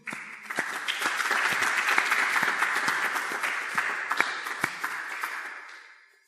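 An audience at a spiritual discourse breaks into applause, a dense burst of many hands clapping that holds steady and then fades out at the end.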